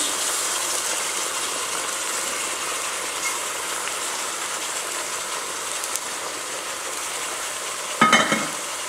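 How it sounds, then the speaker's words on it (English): Diced onions hitting a hot pot for Cajun beef pot roast with beef broth, a steady broadband sizzle running throughout, then a sharper burst of stirring and scraping near the end; no one speaks. "Then we're going to add in our onions"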